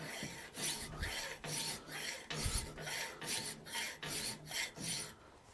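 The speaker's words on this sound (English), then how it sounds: "we're going to file off a nice big 45-degree flat on there" A hand file rasps a 45-degree flat onto the tenon of a forged latch in about eleven steady, close back-and-forth strokes, each a gritty metallic scrape.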